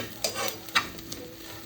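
Scrambled eggs being stirred into onion noodles in a hot pan, giving soft scraping stirs and a few sharp utensil scrapes over a light, steady sizzle.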